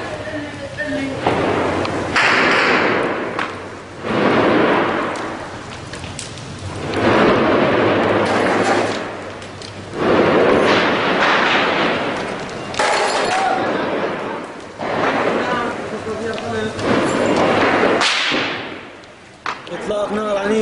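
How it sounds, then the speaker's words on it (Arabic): Heavy gunfire and artillery shelling on the town of Kafr Takharim in Idlib, Syria: repeated loud booming bursts that roll on for a second or two each, with brief lulls between them. "إطلاق نار عنيف على مدينة كفر تخاريم."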